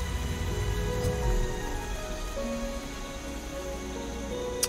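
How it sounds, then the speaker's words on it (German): Steady rain hisses through the whole stretch in the video game XING: The Land Beyond, fairly loud and even, with a couple of faint clicks and no talking. "Jetzt muss der Regen wieder weg"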